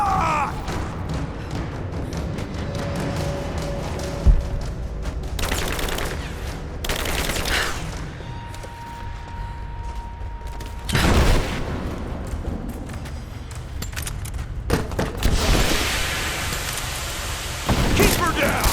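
Suppressing gunfire in the Rise of the Tomb Raider video game, dense bursts of automatic shots and booms running through the whole stretch, loud and steady, with voices shouting over the fighting.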